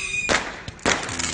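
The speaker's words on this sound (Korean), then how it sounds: "여기는 저렇게 막 불꽃놀이 하네" Fireworks going off at an outdoor busking spot, two separate muffled bursts about half a second apart, heard from a distance over a low background hum.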